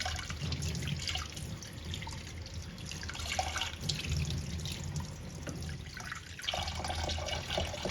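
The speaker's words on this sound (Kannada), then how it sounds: "ಈ ಥರ ನಾನು ನೀರು ಬಿಟ್ಕೊಂಡು ವಾಶ್ ಮಾಡ್ಕೋತೀನಿ." Running tap water splashes steadily and softly over paneer being rinsed, a continuous wash with faint drips, with no voices.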